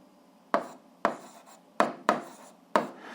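Pen or chalk writing numbers while solving an algebra problem: five distinct tapping strokes at irregular spacing, close and dry against a quiet background.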